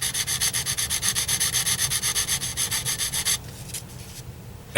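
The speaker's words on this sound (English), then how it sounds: "I'm gonna erase with a little bit of sanding the Sharpie" Rapid rhythmic sanding strokes rasp back and forth close up for about three seconds, sanding Sharpie marker off a model body, then stop, leaving a few faint scrapes.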